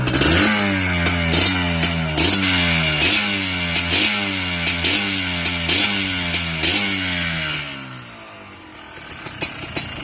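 Yamaha Blaster 200cc two-stroke quad engine revs up over and over, close and loud, with a buzzy, raspy note that climbs and drops in repeated cycles before settling to a quieter idle.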